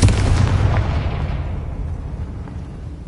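A Confringo blasting curse exploding in the video game Hogwarts Legacy, a single sharp loud blast that decays into a fading rumble over a few seconds, with no talk.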